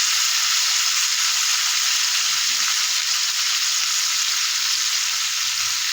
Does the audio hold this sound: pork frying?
yes